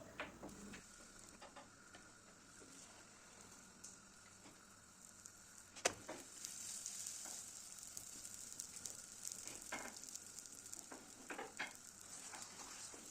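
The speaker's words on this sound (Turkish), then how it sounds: "Orta ateşte sürekli çevirerek kızartmaya özen göstereceğim" Börek frying in oil over medium heat, a steady soft sizzle with faint crackles and occasional ticks and taps, quiet and close with no talking.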